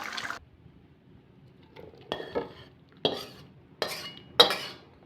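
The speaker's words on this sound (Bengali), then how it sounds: "এবার আমি নাড়িয়ে নেব।" Shukto curry of sweet potato, bitter gourd, pumpkin and potato stirred in a pot, a series of four or five separate metal spoon scrapes and clanks against the pot with short quiet pauses, close and moderately loud.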